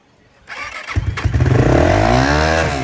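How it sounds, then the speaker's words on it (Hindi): A motorcycle built for mountain riding starts up nearby, a short crank catching into a loud engine that rises and then holds at a throaty idle. "इसकी साउंड चेक करिए, ये लो पहाड़ों में चलाने वाला बाइक यही है यार"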